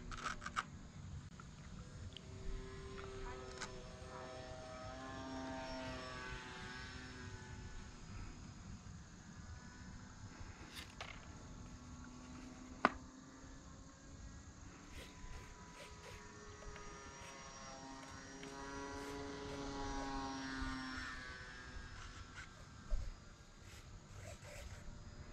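Flite Test Bloody Baron RC airplane flying overhead, its propeller engine buzzing and swelling as it passes, fading and returning, with outdoor field noise and occasional clicks and knocks.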